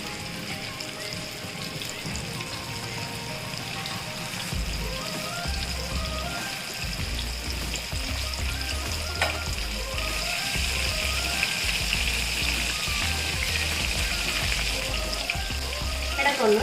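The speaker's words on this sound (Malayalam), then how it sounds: "ഇനി നമ്മൾ ഈ ചിക്കനെ ഫ്രൈ ചെയ്യാൻ പോവാണ്. നന്നായിട്ട് ഡീപ്പായിട്ട് ഫ്രൈ ചെയ്യാൻ പോവാണ്." Coated chicken pieces for Chicken 65 deep frying in hot oil, a steady bubbling sizzle with crackling pops that grows slightly louder partway through.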